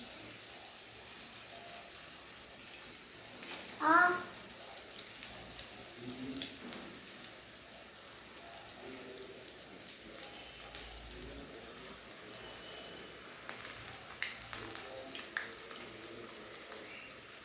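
Bonda snacks deep frying in hot oil give a soft, continuous sizzle and crackle throughout, fairly quiet and close, with a brief brighter splash or clatter near the start and no one talking.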